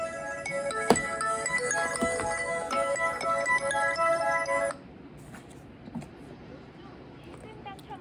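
A phone ringtone plays a repeating melodic tone for several seconds, sounding close and clear, then cuts off abruptly, and someone speaks over it and after it stops.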